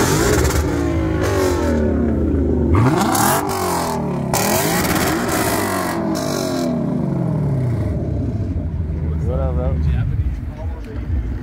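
A Can-Am Ryker with an aftermarket exhaust revs hard at a car show, loud repeated throttle blips rising and falling close by, with people talking over the engine noise.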